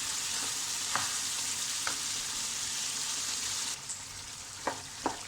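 Chicken sizzling steadily in a karahi while cooking a restaurant-style white karahi, with a constant bright frying hiss and a few soft stirring clinks, the sizzle easing slightly near the end.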